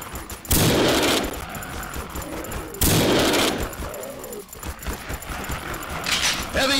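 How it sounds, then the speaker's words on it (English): Bursts of heavy machine gun fire in the game Codename CURE, two loud dense volleys with rattling decay and ongoing clatter between them, close and dominant. "Machine gun! Heavy machine gun!"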